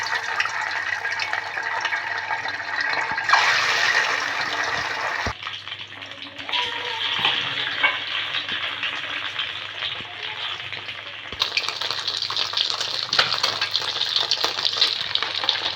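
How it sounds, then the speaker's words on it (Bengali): Cornflour-coated eggs fry in white oil in a pan, giving a loud continuous sizzle and crackle that swells and settles over time with occasional spatters. "আমি এখন সাদা তেল দিয়ে দেবো ডিমটা ভাজার জন্য।"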